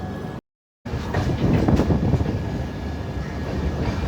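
The Kochuveli-Mumbai LTT Express passenger coach rolls along with a steady, loud low rumble and rattle heard from inside. After a short dropout at the start, the sound continues evenly with no talking.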